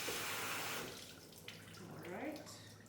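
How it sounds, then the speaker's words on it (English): Cold tap water running over cooked ramen noodles in a kitchen sink, a steady rushing stream that fades mid-way, with a person talking over it. "you're cooling it down with some cold water."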